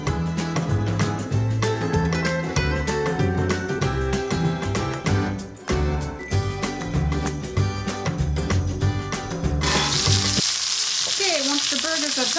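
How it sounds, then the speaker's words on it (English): Beef burger patties fry in coconut oil in a pan, a steady sizzle running beneath music that swells into a louder, fuller hiss near the end. "cooking them in coconut oil"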